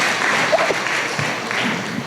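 A short burst of crowd applause at a church worship service, dense and steady throughout, with a faint voice mixed in.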